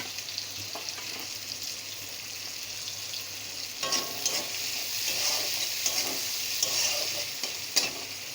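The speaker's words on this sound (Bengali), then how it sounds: "পেঁয়াজটা দিয়ে একটু লাল লাল করে ভেজে নেব" Onions frying in hot oil, a steady hissing sizzle that swells after a few seconds as they are stirred, with soft scraping knocks throughout, close and without talk.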